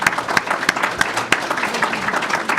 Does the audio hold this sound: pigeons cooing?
no